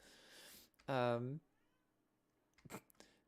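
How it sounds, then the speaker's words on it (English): A cat outdoors lets out one clear, drawn-out meow, with a brief quieter call shortly after, otherwise near silence. "Just heard a cat outside."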